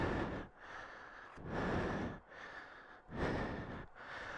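Heavy, labored breaths from an adventure motorcyclist with a cold, out riding a Honda Africa Twin on the wrong tires: three long rasping inhale-exhale cycles, close to the microphone and loud, with no talk.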